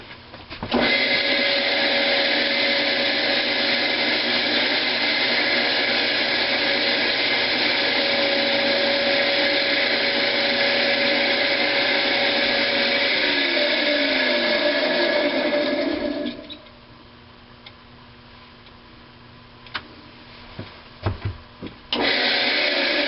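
A wire brush scours a part of a 1926 McCormick Deering Type M engine with a loud, steady, rough grinding whir for about fifteen seconds. It then stops, leaving a few faint knocks and clinks.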